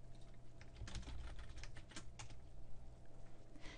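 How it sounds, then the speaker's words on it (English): Rapid typing on a computer keyboard to send a chat message in Office 365, a steady patter of soft key clicks close by over a constant low hum, no voices. "you can type your message and hit enter on the keyboard to send"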